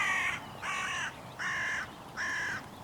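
Hooded crow calling from a tree, four harsh evenly spaced caws at moderate distance over a low outdoor rumble.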